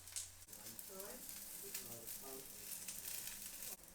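Falafels frying in oil in a pan until golden, a steady faint crackle and sizzle running underneath a person speaking, with a soft knock near the start.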